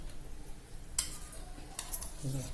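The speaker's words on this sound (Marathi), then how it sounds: "हे वरीचे तांदूळ धुतले आहेत ना, ते त्याच्यात टाकणार आहोत" Washed varai rice tips into melted jaggery in a pan: a couple of short metallic clinks and a soft scraping rustle, all fairly quiet, with a faint low sizzle at the end.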